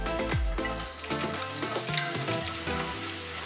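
Chopped scallions frying in oil mixed with a little sesame oil, a loud continuous crackling sizzle close up, with faint stirring scrapes throughout and no talking.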